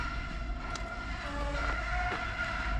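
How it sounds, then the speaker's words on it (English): An automatic car wash running nearby, giving a steady mechanical drone with sustained tonal whines and hum that sound almost musical, continuous throughout with no talking. "it sounds like a music, but it's just a car wash"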